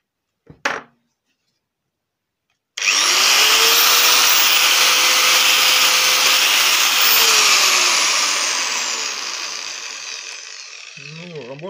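A Zubr angle grinder is switched on and spins up to a loud, steady high-pitched whine, then runs continuously and starts to wind down at the end, preceded by a brief click.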